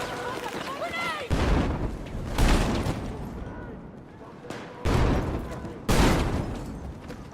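Grenade blasts in the shooter game Battlefield 6: a series of heavy, booming explosions roughly a second or two apart, each decaying into rumbling debris and scattered gunfire.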